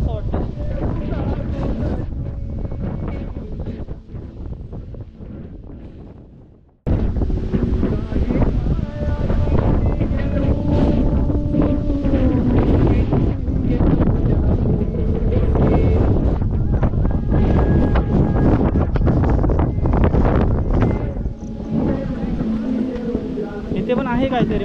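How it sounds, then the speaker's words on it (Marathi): Strong coastal wind sweeps across SagarGad Fort near Alibag, Maharashtra. It roars steadily and buffets the microphone, dips and cuts out briefly, then returns as a loud, continuous rush that sounds close. "एवढा वाऱ्याचा हेवी फ्लो आहे ना, जाम."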